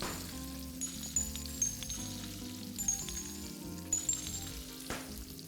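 Egg frying in a pan in the video game Arctic Eggs: a steady, moderate sizzle with tonal game music running underneath and a few brief accents.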